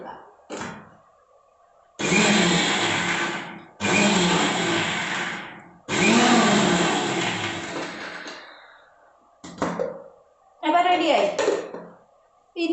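A mixer grinder briefly spinning ingredients for a bean thoran, three loud whirring bursts of about two seconds each with short pauses between, then a few shorter pulses, while a person talks in the gaps.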